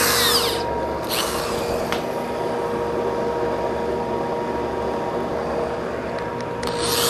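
A power sander grinds steadily against wood inside a hollow tree cavity, a loud, continuous whir at close range that holds for several seconds without pause and with no talk.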